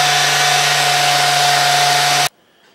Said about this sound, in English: we've been using this other little sander for that. It makes noise.